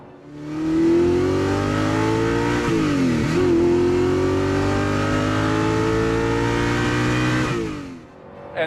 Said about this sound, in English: And that exhaust sounds really good.